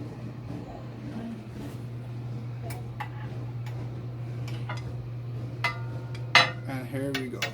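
A spoon clinks against a mug while adding sugar to microwaved tea, a scatter of sharp light taps and scrapes over a low steady hum, growing busier toward the end.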